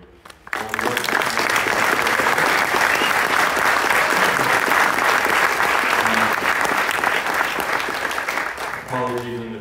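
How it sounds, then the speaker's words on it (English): An unconference audience gives sustained applause for the event volunteers, a dense burst of many hands clapping that starts abruptly and carries for several seconds, with a speaker's voice heard briefly before and after. "I want another round of applause for all of our volunteers"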